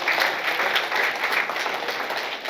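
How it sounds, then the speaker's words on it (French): An audience at a diploma graduation ceremony applauds, producing dense, sustained clapping from many hands that fills the room evenly from start to finish. "cela mérite des applaudissements."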